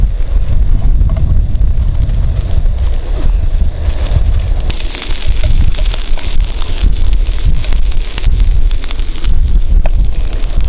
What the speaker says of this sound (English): It's now pouring down with rain